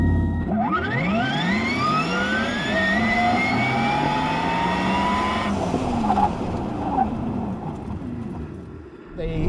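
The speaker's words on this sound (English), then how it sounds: "Porsche says that they recorded that sound based on the electric motors being on a dyno" A synthetic electric-motor whine from a Porsche Taycan Turbo's performance sound, recorded from its electric motors on a dyno, rises steadily in pitch as the car accelerates, loud and close, then eases off and drops away near the end.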